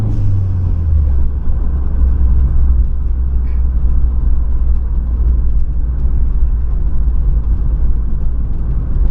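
Ford Cosworth car being driven on the road, heard from inside as a loud, steady low engine rumble with road roar and no break throughout.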